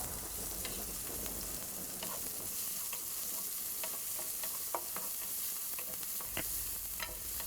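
Crushed garlic and onion stir-frying in a pan for a ridge gourd stir fry, a steady close sizzle with scattered spatula scrapes and clicks throughout, no voices.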